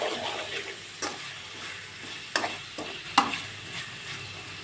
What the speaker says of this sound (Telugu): ఇందులో ఒక పెద్ద సైజు టమోటా తరుగు వేసుకుందాం. వేసి ఇదంతా బాగా మగ్గించుకుందాం.